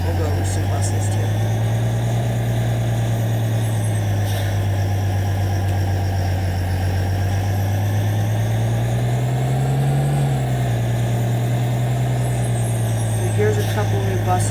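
A 2011 Blue Bird Vision school bus engine on a test drive, giving a steady, close, low diesel drone that swells briefly partway through before settling back.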